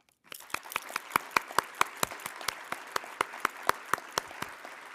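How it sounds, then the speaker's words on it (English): An audience at a global summit's closing session claps, starting sharply and building into steady, loud applause with distinct individual claps cutting through the crowd sound. "To Nora, I would like us to all applaud her, to her courage."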